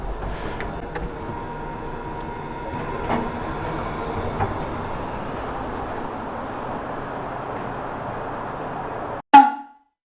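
Elevator in a 30-year-old Kyoto apartment building riding up to the third floor: a steady low mechanical hum runs throughout, then a brief pause and a sharp, close arrival chime right at the end.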